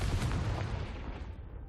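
In the Hogwarts Legacy video game, a Confringo blasting spell hits with a faint, muffled boom and a rumbling blast that fades out over about a second and a half.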